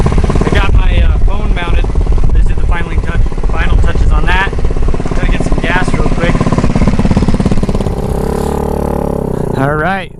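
A stretched Honda Ruckus scooter engine runs loudly close by, a rough steady drone with a few revving swells, while someone talks over it throughout.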